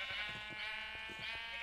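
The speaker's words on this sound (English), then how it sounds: "Oh my gosh, look at all these sheeps." Sheep in Minecraft bleat in a few short wavering calls, one after another, close and fairly clear with no talking over them.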